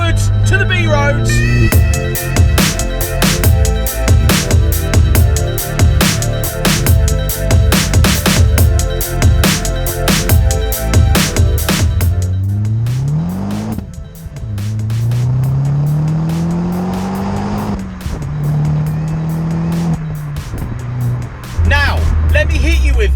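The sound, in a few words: 2009 modified Vauxhall Corsa VXR driving on B roads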